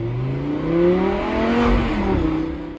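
A car engine revs while driving, its pitch rising and falling in smooth sweeps that swell loud and close inside the moving car, with no talking.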